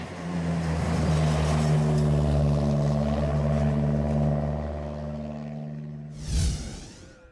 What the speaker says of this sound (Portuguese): Com os motores ligados, foi então hora de dar início à corrida.